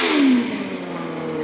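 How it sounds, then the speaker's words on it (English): A custom two-seater buggy with a four-cylinder engine revs briefly, a rising then easing mid-pitched engine note heard close and fairly loud, with no talk. "Can't show you the buggy, but I can at least let you have a listen like I can."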